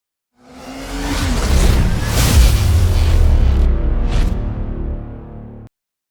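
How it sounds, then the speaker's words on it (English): Race car lapping the short Martinsville Speedway paperclip oval, engine roaring up loudly from silence, sustained with a brief tire squeal, then cutting off abruptly after about five seconds. "let's take a quick lap around the famed paperclip at Martinsville Speedway in this week's Logitech track lap with Fast Pasta"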